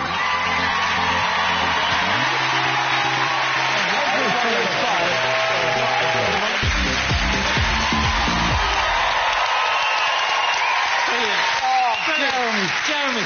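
A studio audience at a talk show applauds, whoops and cheers loudly, with voices shouting and a busy crowd roar running underneath throughout.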